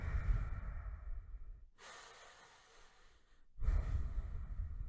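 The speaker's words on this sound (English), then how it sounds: "I'm breathing heavier, right?" Slow, heavy breaths close to the mic: a long exhale, a quiet pause, then another deep breath, audible and airy.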